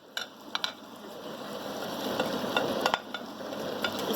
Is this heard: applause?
no